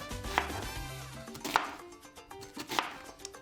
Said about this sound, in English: Now we have here a half an onion, and what I'm gonna do is just basically just cut it into slices like so